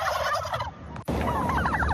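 Several turkeys gobbling in rapid, warbling bursts, close and loud, with one gobble near the start and another after a short pause.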